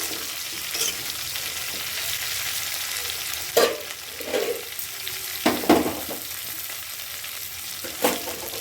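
Jackfruit pieces frying in a pan give a steady, close sizzle throughout, broken by several louder bursts of stirring and spattering scattered across the clip, with no talking.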